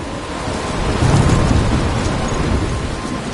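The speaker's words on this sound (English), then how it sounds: "I'm trapped in a storm?" Thunderstorm in Life is Strange, a heavy wash of rain with a low rolling rumble of thunder building and fading, loud and continuous without speech.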